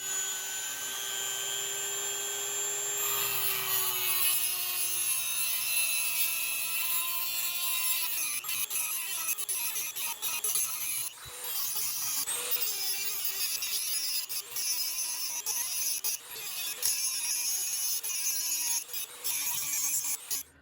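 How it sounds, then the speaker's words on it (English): A Dremel rotary tool grinds a washer clamped in a vise, a high whining motor with a gritty grinding rasp that holds steady and shifts in pitch as it bites, close and loud with no speech. "Now I'm going to try to grind away at those lines with the Dremel."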